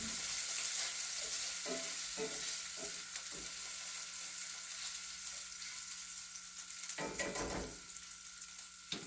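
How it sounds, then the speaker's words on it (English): Bacon frying in a pan gives a steady, close crackling sizzle, broken by several scraping stirs and one louder stir near the end, with no talking. "Let me stir up the bacon over here. Get it mixed to render out."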